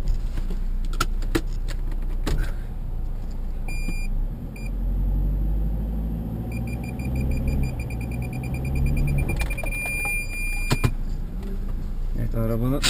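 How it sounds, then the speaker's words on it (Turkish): A car's parking sensor beeps in rapid repeated bursts while the car moves on a mountain village trail, over engine hum and handling noises, with some talk. "Evet, arabanın park sinyali, ne yapıyorsun o diyor."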